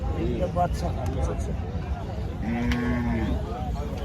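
A buffalo at a busy cattle market gives one drawn-out moo of about a second, close and clear over a steady murmur of crowd noise and voices.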